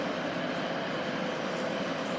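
A Class 175 diesel train at Stockport station gives a steady, dense rumble and roar, constant in loudness and with no voices.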